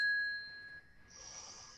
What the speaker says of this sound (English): one strategy that I love and I can't live without is my bell